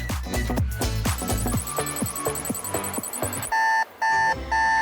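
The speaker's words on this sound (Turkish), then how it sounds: "Sussun şu zil sesi." Busy clattering percussive hits give way to an electronic alarm clock beeping in three loud, evenly spaced bursts.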